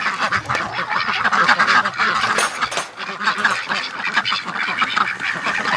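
Ducks quack loudly and continuously outdoors as they are let out of a barn, a dense overlapping chorus of honking quacks with goose-like calls mixed in.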